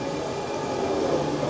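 A Europa Park monorail with Christmas lights, heard as a steady, close rumbling rail hum with a faint tonal whine and no talking.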